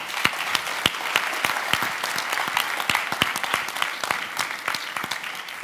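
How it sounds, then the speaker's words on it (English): An audience applauds a panel at a policy conference, steady, dense clapping from many hands with a few louder claps standing out, sustained and moderately close throughout. "giving them a round of applause for that"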